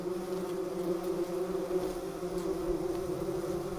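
Bumblebees buzzing at a nest in an abandoned mouse nest: a steady, close, droning hum with no pauses and no voices.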